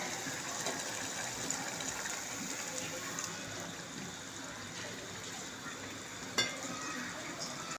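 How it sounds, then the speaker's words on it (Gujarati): Boiled water goes into a sizzling pan of pav bhaji mixture, a broad steady hissing, bubbling wash that holds throughout, with one sharp knock near the end. "આપણે બોઇલ કરેલું પાણી નાખશું"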